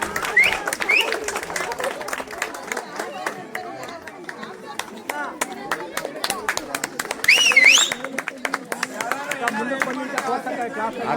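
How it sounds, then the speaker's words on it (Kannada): A crowd at Chitradurga fort claps in a quick, steady patter under busy chatter and calls, with a couple of sharp whistles cutting through near the middle. "ಚಪ್ಪಾಳೆ."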